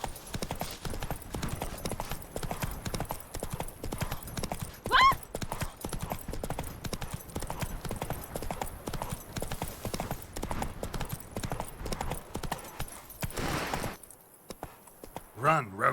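Roach the horse's hooves clip-clop in a steady galloping rhythm across terrain in The Witcher 3, with a brief whinny and other game sounds around the hoofbeats.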